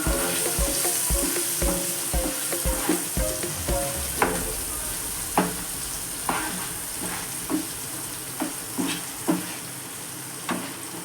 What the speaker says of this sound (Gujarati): બરાબર મિક્સ કરશું